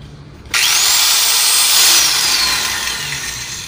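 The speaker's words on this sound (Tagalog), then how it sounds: "Ang atong unahon pagsuway kining grinder" Angle grinder switched on after a quiet start, its motor jumping to a loud, steady high whine that holds for about three seconds with a slight pitch sweep, then eases a little toward the end.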